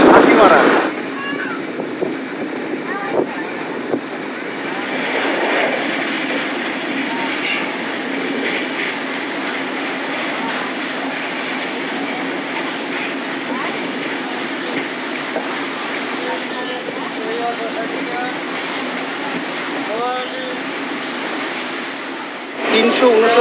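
The 15661 Ranchi Kamakhya Express runs on rails near Binnaguri in India, a continuous loud rumble with rattling carriages and faint clickety-clack throughout.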